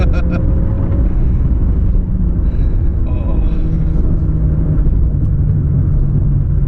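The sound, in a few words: 2019 Mazda 6 SkyActiv-G 2.0 engine downshifting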